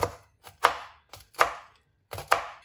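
Green chillies being crushed for Punjabi sarson ka saag give sharp, close knocks in uneven pairs, about six strikes in all, with no talking.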